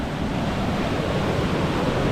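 Floodwater pours down a brook waterfall in a steady, loud roar of broadband rushing water that does not let up. It sounds close and continuous, with no voices over it.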